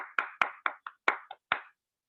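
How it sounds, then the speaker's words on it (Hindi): About eight sharp hand claps ring out at a meeting, spaced unevenly and close by, each one a dry crisp burst, then silence. "जोरदार तालियां हो सकती हैं"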